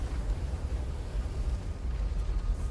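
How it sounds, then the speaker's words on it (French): Parasite growths burst in the Halo Wars 2 video game, heard as a steady, heavy low rumble with a rough, eruptive texture that holds at a constant level throughout, with no talk over it. "Les excroissances du parasite vont éclater."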